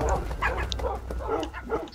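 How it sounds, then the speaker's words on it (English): Minecraft wolves bark repeatedly during a fight against the Wither, with a busy cluster of overlapping yips and barks over loud game noise and a constant low rumble. "Attack, wolves! Attack!"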